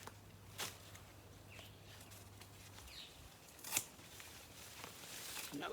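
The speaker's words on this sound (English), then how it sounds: "We've got our trusty secateurs there." Secateurs snip through garden sticks for a trellis, two or three crisp close cuts against quiet outdoor background.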